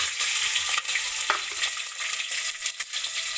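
Onions frying in oil with green chillies, cloves, peppercorns and bay leaf in a pan for a soya biryani, a dense steady hiss with a few faint stirring knocks.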